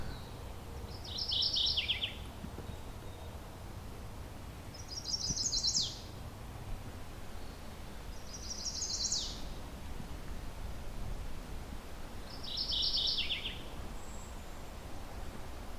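Mourning warbler singing from ferns in a forest: four short, bright bursts of song spaced a few seconds apart, fairly distant over a steady low background hum.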